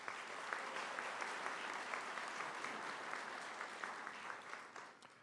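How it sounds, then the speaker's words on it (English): Steady, fairly distant applause from a large crowd at a spring college commencement ceremony for nursing and allied health graduates, even and sustained, tapering slightly toward the end. "Let's give them a round of applause."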